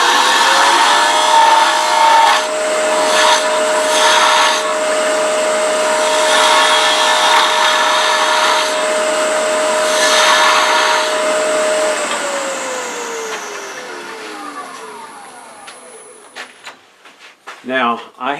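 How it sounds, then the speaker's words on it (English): Wood being turned on a lathe with a 1/2 inch spindle gouge while shaping a small wooden mouse: a steady motor whine under broadband scraping and cutting noise, easing off near the end into a few brief knocks. "I'm going to use a 1/2 inch spindle gouge"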